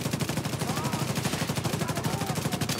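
Rapid automatic gunfire from The Division 2 rattles in a dense, steady burst of sustained shots, loud and close, with combat noise layered in.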